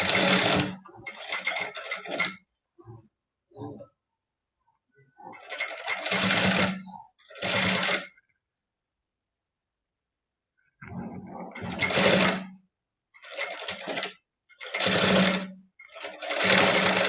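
Sewing machine stitching a princess cut back-open blouse, several short bursts of motor whirring separated by silences, close and clear, with a little quiet handling between runs.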